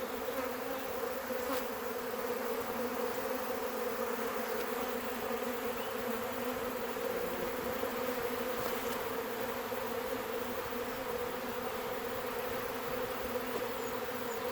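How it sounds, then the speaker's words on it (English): A swarm of honey bees fills the air with a dense, continuous buzz, loud and even throughout and with no voices over it. "Gonna end up being a good 3-4 pounds of bees."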